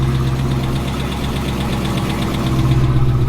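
A Driftcat car engine with a damaged motor idles steadily up close while warming up, with a rapid, regular knocking tapping through its low rumble.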